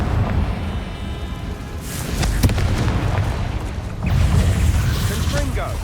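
Confringo fire spell in Hogwarts Legacy exploding in rumbling, booming bursts, with a loud blast around the middle and another surge later, set against a dense, noisy game soundscape.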